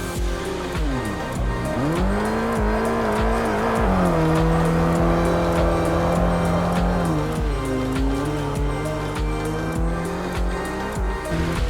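A Mitsubishi Lancer Evolution in Assetto Corsa races over dirt, its engine droning and rising and falling through the gears with shifts, under a steady hiss of tyres on loose ground; no talk.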